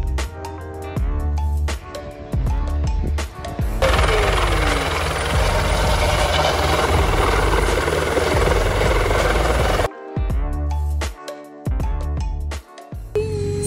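A helicopter's rotor thumps and whines steadily up close, loud and continuous in the middle, with quieter rhythmic clatter before and after.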